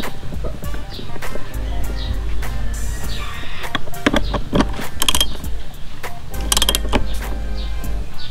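The seat of a Yamaha R15 V3 motorcycle is refitted and locked, making clicks, clunks and mechanical rattles close by. Sharper metallic snaps come near the middle and end, over a low background hum.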